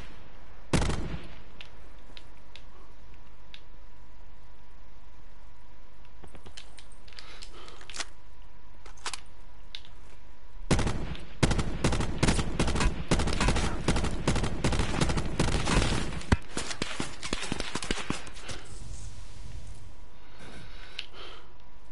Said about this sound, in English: Both teams are shooting at me here.